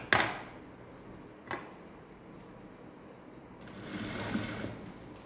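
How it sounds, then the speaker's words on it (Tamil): A sewing machine stitches quarter-inch elastic onto a peplum top, running close and steadily with a brief stop before speeding up again, and no voices over it. "எலாஸ்டிக் எப்படி வச்சு தைக்கிறோன்னு கவனமாக பார்த்துக்கோங்க"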